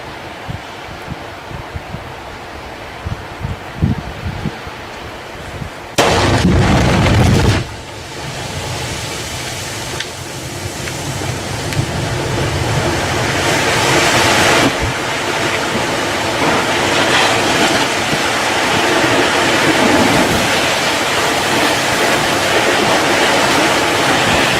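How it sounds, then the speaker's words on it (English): Lightning striking water, which then boils: a few scattered cracks, a loud burst of a couple of seconds, then a long, steady, loud hissing roar of boiling water that gradually grows fuller. No speech. "You see the water boiling? I know you see the water boiling."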